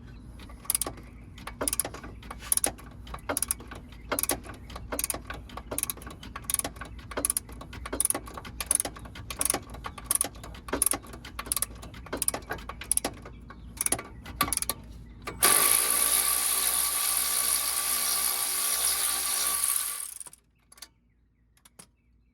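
A ratchet wrench on an extension works the control arm bolts of a BMW E92 335i, giving rapid bursts of close, crisp clicking strokes. Near the end a brief louder whirring spin follows, with no talk.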